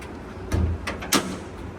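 A travel trailer's sliding door rolls along its track with a rumbling thud, then a second, sharper knock as it shuts, close by.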